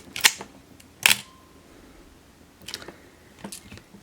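Two sharp, close shutter clicks from a Mamiya ZE 35mm film SLR camera body fitted with a Mamiya-Sekor E 50mm lens, about a second apart, followed by two softer mechanical clicks later on in a quiet room.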